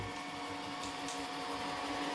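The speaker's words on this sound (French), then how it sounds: "je suis en train du coup d'imprimer un gabarit de perçage" A 3D printer prints a drilling template for a solar bicycle build, a steady whirring hum with faint stepper-motor whines and soft shifting tones, close and continuous.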